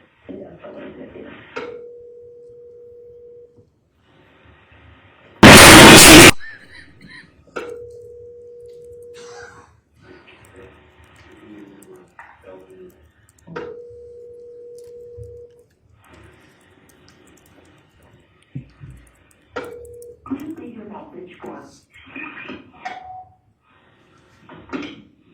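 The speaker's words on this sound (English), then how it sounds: "we heard a set of dialing. There was 2 rings. Then the call terminated, and the second dialing in that clip" A telephone call is dialed, rings twice, then cuts off and is dialed again, heard as a recording played in a murder trial. The steady tones repeat at intervals, with one loud burst of noise and muffled sounds between them.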